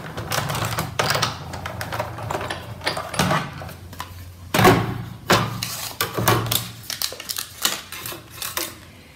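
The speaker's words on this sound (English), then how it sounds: "I'm going to die cut a banner of the stamped image that I've got" A die cutting machine working a stamped paper banner, giving off uneven mechanical clicks, clunks and rolling grinds close by, with short bursts and pauses and no talking.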